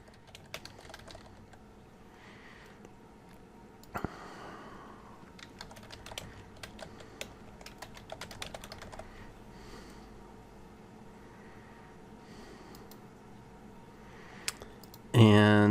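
Typing on a computer keyboard, quick irregular clicks and tapping bursts spread across the whole stretch, moderately close and fairly quiet, ending in a louder sudden thump.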